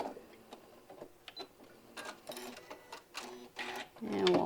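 Sewing machine stitching a piece of fabric down, heard in several short mechanical bursts of rapid stitching separated by brief pauses, fairly close, with no talk over it.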